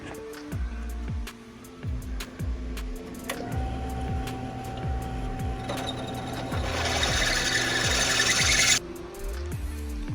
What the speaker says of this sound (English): He's gonna put on the drill press and drill out those holes.